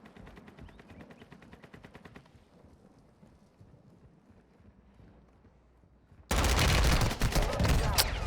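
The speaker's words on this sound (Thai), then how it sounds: "ยิงกันให้ตายให้หมด" Warzone 2.0 video game gunfire with an ISO Hemlock rifle on the Vondel map: rapid automatic shots crackle at first, then a very loud, sustained barrage of fire closes out the stretch.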